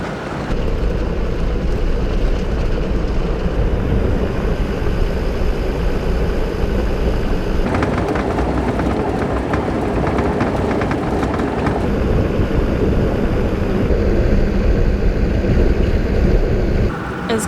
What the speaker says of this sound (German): Es ist gerade ziemlich windig und es hat auch mit ziemlich viel Staub und Sand aufgewirbelt